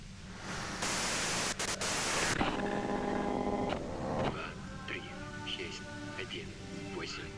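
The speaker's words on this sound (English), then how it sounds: "If you've got something really important to say, you can do it through the white noise" Radio white noise from the Disco Elysium video game, a loud burst of broadband static that cuts out and gives way to a faint tonal hum and soft electronic tones.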